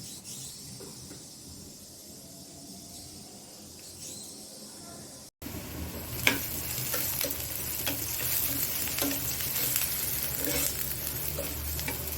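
Tempering spices hit hot oil poured over boiled dal. A softer, quieter stretch breaks off abruptly, then a loud, sustained sizzle with crackling spits takes over and continues to the end.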